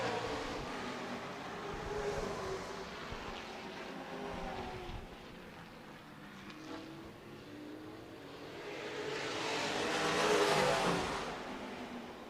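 Late model race cars racing at Redwood Acres Raceway, a pack of engines droning from a distance that swells louder as cars sweep past, then fades again, steady and continuous without speech.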